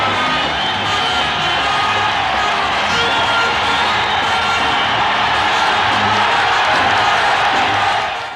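A capacity crowd of 16,000 at Madison Square Garden, New York, rising for a former Alabama boxing champion: a sustained, loud roar of cheering and whooping from a vast indoor audience, steady throughout.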